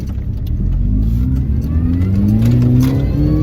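An R53 Mini Cooper S engine revs up steadily while driving, a loud, close mid-pitched drone that climbs in pitch through the whole stretch with no talking.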